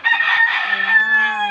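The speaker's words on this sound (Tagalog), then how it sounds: "Ingay ng manok natin." Rooster crowing loudly and close, a single long drawn-out crow lasting the whole moment, with other chickens clucking faintly around it on a farm.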